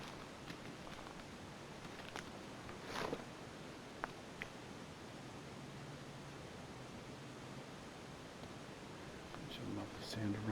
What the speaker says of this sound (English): I love the sound of running water.